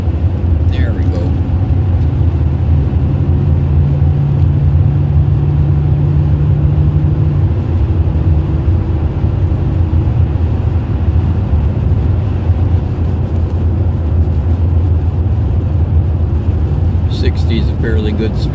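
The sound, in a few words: car driving about 45 through slush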